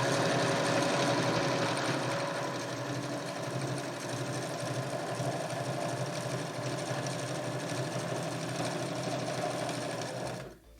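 A sewing machine runs in one long continuous burst, stitching a fabric face mask closed, with a steady whirring hum and fast needle rattle up close before stopping abruptly at the end.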